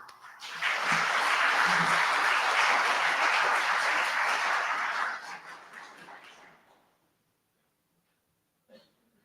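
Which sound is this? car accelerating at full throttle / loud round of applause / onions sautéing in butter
loud round of applause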